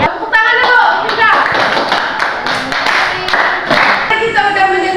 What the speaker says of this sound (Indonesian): Tepuk tangan dulu, Mirza.